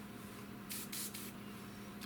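Airbrush spraying thinned paint onto a Tamiya P-47M model kit in short hissing bursts, two or three close bursts with a brief one at the end, alone without talk.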